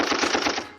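Rapid automatic gunfire sound effect, a dense burst of machine-gun shots firing continuously for most of a second before tailing off, loud and alone with no talk.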